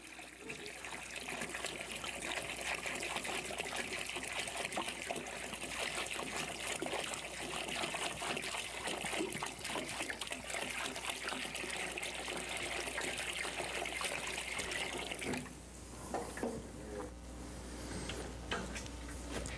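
Water splashes and trickles steadily in a continuous, close, moderately quiet wash that runs without pause and thins out near the end, with no voice over it.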